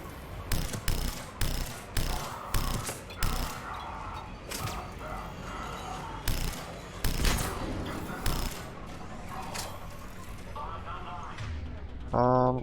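Assault rifle fire in the video game Mass Effect 3, delivered as loud rapid bursts of shots with short pauses between, and a player's voice speaking over parts of it.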